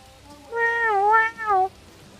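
A cat in the game Dinkum gives one drawn-out meow with a falling and rising pitch, a brief dip in the middle, heard close and clear over a quiet background.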